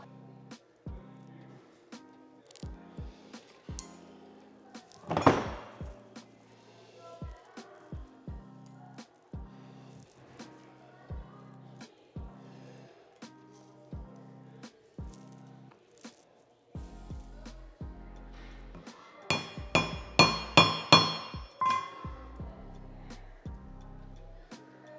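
Decorative rivets being set into leather during a workshop session give sharp, scattered taps and clicks, with one louder strike near the middle and a quick cluster of bright metallic hits toward the end.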